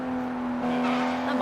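A car driven in the video game Sleeping Dogs: a steady, loud engine drone with a strong held tone, rising slightly toward the end as it accelerates.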